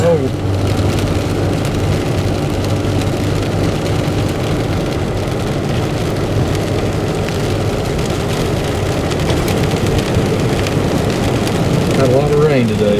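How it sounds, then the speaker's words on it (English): Steady rain drums on a moving car during a drive through Little Switzerland, a dense unbroken hiss mixed with engine and road rumble for the whole stretch, with no voices. "A lot of rain today."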